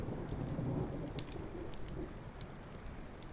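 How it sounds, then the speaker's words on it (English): A recorded thunderstorm plays quietly in the background of an ASMR stream: a steady hiss of heavy rain with low, rolling thunder and a few faint bird chirps, with no voices. "Hopefully the storm isn't too loud that I'm playing."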